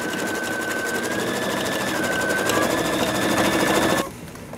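A sewing machine stitches an appliqué onto fabric for St Patrick's Day treat bags, running in a fast, steady, close whir that rises slightly and then stops abruptly.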